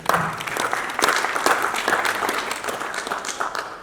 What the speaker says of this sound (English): So, a round of applause to Africa's Talking.